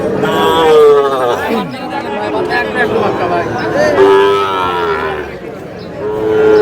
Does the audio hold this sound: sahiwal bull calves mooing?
yes